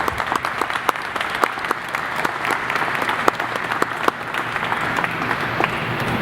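Sustained applause from an audience celebrating the NASA team that finished Orion spacecraft testing in Ohio for the Artemis-1 Moon mission, dense steady clapping with sharper individual claps throughout, no speech.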